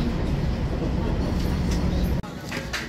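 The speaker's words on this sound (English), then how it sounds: "I'm on the train." Steady rumble of a passenger train carrying people to a concert in Munich, heard from inside the carriage: loud continuous low-frequency rolling noise with faint voices under it, broken by a brief dropout near the end.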